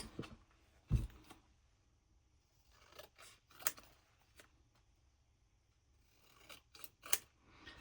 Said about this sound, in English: Let's cut that a bit.